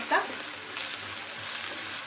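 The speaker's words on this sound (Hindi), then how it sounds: "जब तक हमारे आलू अच्छे से फ्राई हो रहे हैं" Raw potato pieces fry in a pan with a continuous, soft sizzle and crackle, with a brief stir or clatter near the start.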